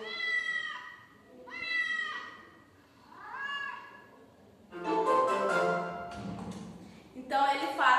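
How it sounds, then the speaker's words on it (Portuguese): A big yellow cat meows three times in long, drawn-out calls, close and clear, followed by a burst of busy, scratchy noise and a final cry. "Phew, it's a cat. A yellow cat. Oh, a big yellow cat."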